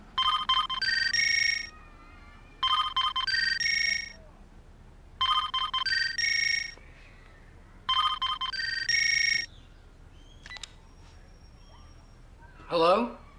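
A telephone rings unanswered, four repeated trilling ring bursts evenly spaced and fairly clear, followed by a brief clatter and a short sound at the end.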